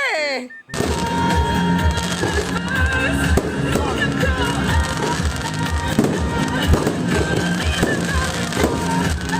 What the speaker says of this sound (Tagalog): hindi namin nakalain may pa-fireworks pala si Mayor Tingne.